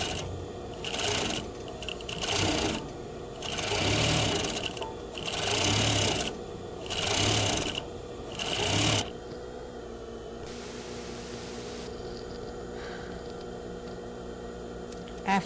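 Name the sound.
sewing machine stitching a shirt collar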